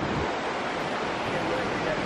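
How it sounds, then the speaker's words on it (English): Taughannock Falls in Upstate New York pours in a broad, constant rushing roar, heard close and steady throughout. "And this is the falls."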